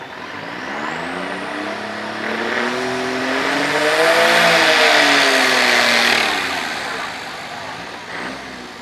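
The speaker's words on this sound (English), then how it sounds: "Ben Burker, our last diesel, tractor called Disposable Income" A diesel pulling tractor at a county fair tractor pull roars under heavy load, its engine pitch climbing then sagging across nine seconds, loud and close, with a rumbling broadband blast throughout.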